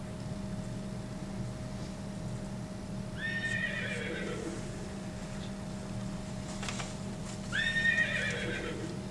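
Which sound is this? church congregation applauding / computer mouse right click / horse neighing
horse neighing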